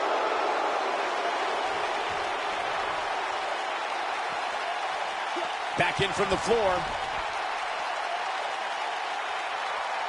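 A capacity crowd roars steadily through a wrestling title match, a loud broad wash of cheering with a few sharp thuds and a brief voice breaking through near the middle.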